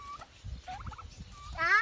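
Turkeys on a farm gobble at feeding time, the rippling calls ringing out twice at mid distance and the louder one near the end, over low scuffling and rustle.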